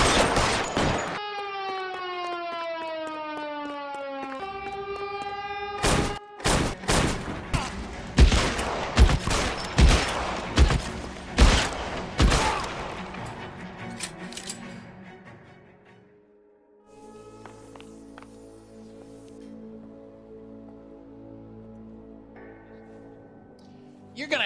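A burst of gunfire in the video game L.A. Noire, with a rapid sequence of loud, sharp shots from a police chase scene over a rising and falling siren, then fading to engine and ambient game sound.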